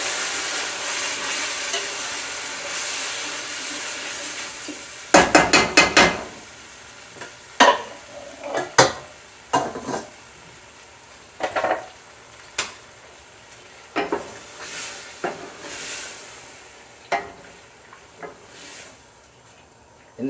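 Broth whisked into a pot of thick roux for chicken and dumplings: a loud pour and sizzle at first, then a series of separate scraping whisk strokes against the pot, close and without talk.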